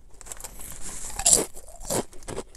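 Ruffles Flamin Hot BBQ ridged potato chips being bitten and chewed up close, with several crisp, crackly crunches spaced across a couple of seconds.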